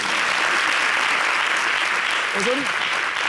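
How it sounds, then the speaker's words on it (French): A loud, continuous crowd applause for the governor on a Showbuzz stage show, steady clapping throughout with a brief vocal cry rising over it near the end. "On applaudit Madame le gouverneur."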